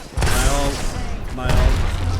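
Gunfire in the battle royale game Apex Legends comes as two close, loud bursts of rapid shots about a second apart, with a player's voice partly mixed in.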